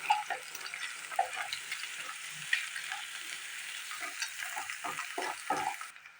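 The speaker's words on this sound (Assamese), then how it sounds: "এতিয়া মই পিঁয়াজৰ লগত ডিমখিনি এইদৰে লগ কৰি ভাজি ল'ম।" Egg and onion fry together in a pan, a steady sizzling hiss broken by repeated scraping strokes of a spoon stirring the mix, close and moderately loud throughout.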